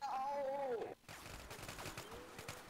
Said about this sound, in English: why do you gotta come in here and shoot us?